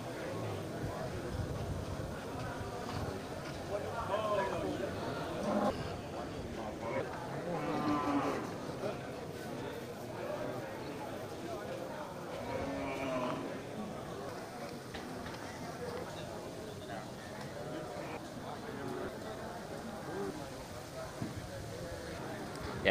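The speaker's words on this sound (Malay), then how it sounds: "sapi-sapi super semuanya" Cattle lowing at a busy local-breed cattle market in Indonesia, with scattered moos rising over a constant crowd murmur and people talking throughout.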